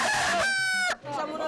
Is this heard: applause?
no